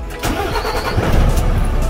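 A used Hyundai Mega Truck wing-body cargo lorry with about 411,000 km on it cranks and fires up, a short starter whir rising into a loud, close diesel rumble settling toward idle.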